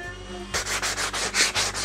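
Hand sanding of the chamfers and faces on a wooden workshop cabinet part, a steady series of about eight rhythmic rubbing strokes close to the mic with no talking.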